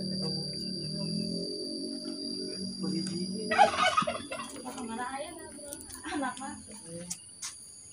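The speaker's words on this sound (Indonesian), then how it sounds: "Di sini ada apa? Ayam kalkun ya." A turkey gobbles in a rural yard beside an isolated house, its burst of calls rising mid-clip above steady insect chirring and distant background voices.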